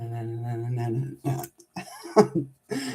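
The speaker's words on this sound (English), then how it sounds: "let me clear my throat" A person clears their throat with a rough, voiced rumble followed by a few short gravelly grunts, close and fairly quiet.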